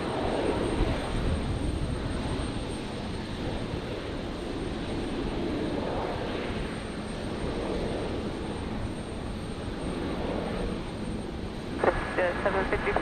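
Business jet, a Global 6000, touching down at Brisbane International Airport at night after a long-haul flight; a steady broadband jet roar holds throughout at moderate distance, with a brief sharper transient near the end and faint radio-style talk mixed in.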